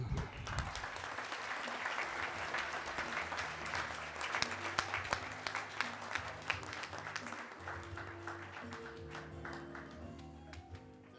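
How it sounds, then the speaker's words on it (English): An audience applauds an award recipient at a civil rights champions awards ceremony, a steady, fairly quiet wash of many hands clapping that carries on for about eleven seconds, with a few sharper claps standing out and faint voices underneath. "please give a round of applause to our next civil rights champion, Gary Oxley."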